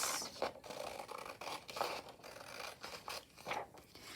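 Scissors snip and slice through paper for a vintage French junk journal cover in repeated short cuts, each stroke a crisp scratchy rasp in close, steady succession with brief pauses between.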